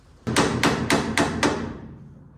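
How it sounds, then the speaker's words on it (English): A hammer drives a screwdriver against the axle seal on a 1947 Chevy rear end, five sharp metallic strikes in a steady rhythm, close and loud with no talking. "Okay, screwdriver and hammer it is."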